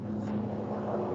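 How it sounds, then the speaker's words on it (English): A helicopter passes overhead outdoors, a steady low rotor drone that holds evenly throughout, fairly loud and continuous with no talk over it. "The helicopter is flying over me"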